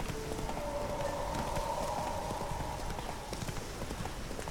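Horse hooves in the video game The Witcher 3 clop steadily and rapidly on a road at a brisk pace, moderately loud against a dense background of in-game ambience and music.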